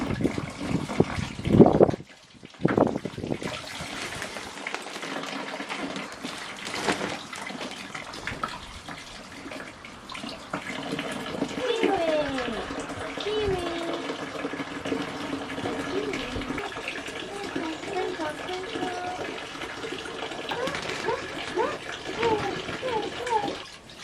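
Warm water runs steadily from a tap for a long stretch, close by, with a few knocks and handling noises early on.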